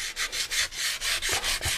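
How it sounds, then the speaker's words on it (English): Rhythmic back-and-forth rasping of sandpaper on a soft sanding stick against a Yamaha FZR motorcycle wheel, close up and steady, with about ten even strokes in quick succession. "one of the old soft sanding sticks with some sandpaper"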